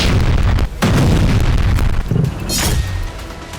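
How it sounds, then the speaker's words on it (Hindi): A loud, deep boom with rumbling low-end bursts, several heavy thuds rolling one after another over a few seconds, with no voices. "मॉस्को में धमाके की आवाज सुनी गई"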